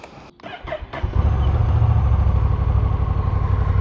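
A Honda Rebel 1100 motorcycle's two-cylinder, 270-degree-crank engine cranks for a moment, then catches and settles into a loud, steady rumbling idle close by.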